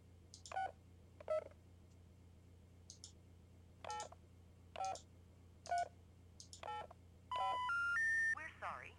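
A telephone is dialed in the video game Amber: Journeys Beyond: a series of separate touch-tone beeps spaced about a second apart, followed by three rising error tones over a low steady hum.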